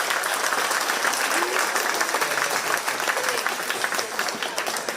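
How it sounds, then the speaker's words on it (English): A crowd at a 4H swine show at the Shelby County Fair applauds steadily and loudly, with dense, sustained clapping that fills the whole stretch and a few voices mixed in. "Give these young people a big round of applause for their effort."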